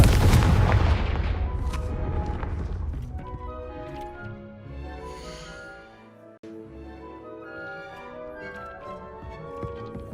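A Confringo fire spell bursts in Hogwarts Legacy with a loud booming blast at the start, its rumble fading over several seconds beneath swelling orchestral music.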